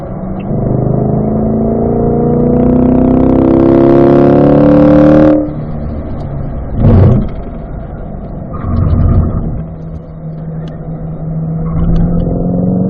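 A Chevrolet C8 Corvette accelerates hard on a race track, engine pitch climbing steadily to a peak before a sudden cut at the shift, then settling into a lower steady drone with brief surges.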